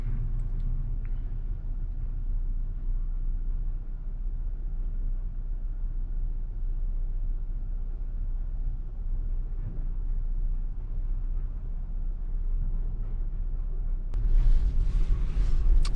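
Low, steady rumble inside a parked Jeep Gladiator with a soft top, heard at rest with nobody talking, then a sudden louder broadband swell of noise near the end.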